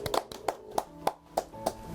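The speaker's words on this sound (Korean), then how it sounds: "네, 박수." Applause from an audience at a Korean welfare TV human documentary event, heard as a short burst of about seven sharp, evenly spaced claps over a quiet room tone, with no talking.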